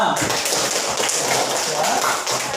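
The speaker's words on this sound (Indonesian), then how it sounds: "tepuk tangan" Classroom students clap their hands together in a loud, busy patter of taps and thuds, with a voice and chatter mixed through the clapping.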